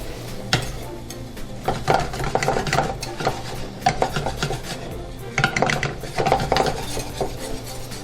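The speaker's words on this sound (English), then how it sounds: "go ahead and mix in the flour. Give that a whisk." A metal whisk works flour into a blonde roux for a thick béchamel in a Creole kitchen, scraping and clinking against the pot in an uneven rhythm, up close and unaccompanied by speech.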